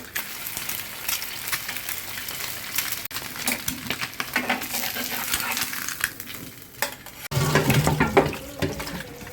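Food frying in a pan and being stirred, busy crackling sizzle with frequent scraping strokes and a louder burst of hissing near the end.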